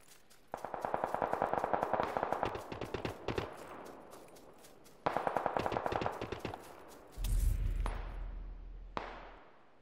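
Bursts of automatic gunfire in the video game PUBG, loud rapid volleys in two long strings with gaps, followed by a few heavier single booming shots near the end.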